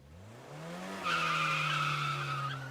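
Sudden tire screech from hard braking, a harsh rising squeal that flares abruptly and holds loud for over a second behind a low engine drone, then eases slightly.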